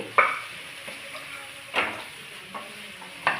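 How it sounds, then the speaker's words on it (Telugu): A spoon scrapes and stirs okra fry with yogurt in a sizzling pan, five separate strokes over soft frying hiss, close and fairly quiet, with no one talking. "ఇలా డిస్టర్బ్ చేయకుండా ఇలా కింద నుంచి పైకి ఇలా కలుపుకోవాలి"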